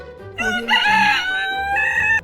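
A rooster crows a full cock-a-doodle-doo up close, loud and alone, its drawn-out call rising in the middle and closing with a shorter final burst.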